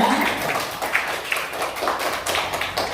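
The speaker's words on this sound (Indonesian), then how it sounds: "tepuk tangan untuk Putu" A group claps for a student named Putu during a lesson, a short burst of mixed claps and taps that is fairly close and uneven.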